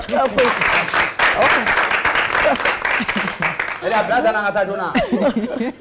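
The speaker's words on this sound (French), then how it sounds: "Applaudissez encore" An audience applauds after a dance performance at an African music event, and clapping runs under a loud announcer's voice speaking French, with some chuckling in the crowd.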